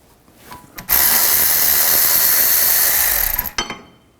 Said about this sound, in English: This happens to be a 14mm socket that I'm using to take this one out.